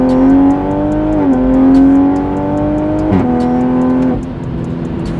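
A new Toyota Supra engine revving and pulling hard while driving, close and loud, its steady drone climbing in pitch with quick dips at gear changes.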